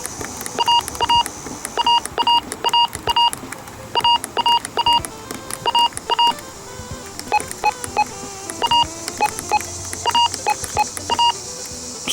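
Rapid beeps from the buttons of a Honeywell RN507W radio, dozens of short electronic tones in quick bursts, loud and close, with light mechanical clicks and a low hum underneath.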